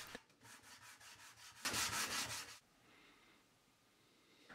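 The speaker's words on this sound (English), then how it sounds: "I also flattened the bottoms with 220 grit sandpaper on a sheet of glass" Rhythmic back-and-forth rasping of 220 grit sandpaper on a sheet of glass, flattening the bottom of a small ebony hand plane, a series of quick strokes swelling into a louder burst before stopping, close and alone.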